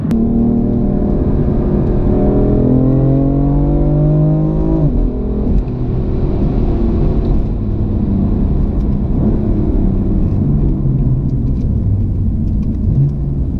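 A BMW M4 LCI Competition, rear-wheel drive with 444 horsepower and a DCT gearbox in manual mode, roars loudly from inside while driving, revving up steadily, then dropping sharply on a shift and droning on in a rumbling cruise.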